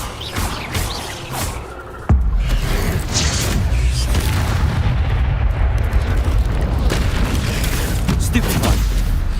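The Incendio fire spell cast in Hogwarts Legacy, a sudden loud whooshing burst that turns into a sustained roaring, crackling rumble. It is layered with booming combat noise and the character's shouted voice.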